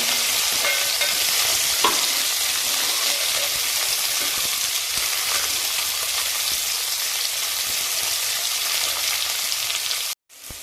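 Onions sautéing in a pan for a pea pulao give off a loud, steady, dense sizzle that holds unbroken for about ten seconds and then cuts off abruptly near the end.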